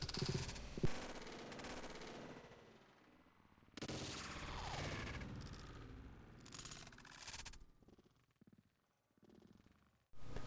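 Sniper rifle hardscope shots in the online shooter Combat Arms, slowed down: a few sharp cracks with stretched, rumbling tails and bursts of game noise, fairly loud, with no talk over them.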